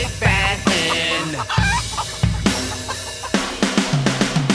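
Hen clucking in a children's counting song, loud repeated clucks and squawks in quick rhythmic bursts, ending with a run of short clucks, close and clear.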